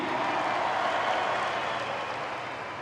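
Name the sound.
crowd applause at supercross event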